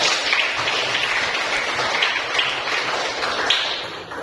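Applause from a classroom audience, a dense, steady patter of many hands clapping at close range that holds for several seconds and thins slightly toward the end.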